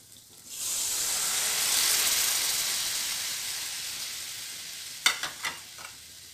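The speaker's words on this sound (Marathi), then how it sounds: "मसाला छान परतून झालेला आहे, छान तेल सुटले." Masala frying in hot oil for a Maharashtrian katachi aamti, giving a steady broad sizzle that rises after a quiet start, followed near the end by a few sharp stirring clinks of a utensil against the pan.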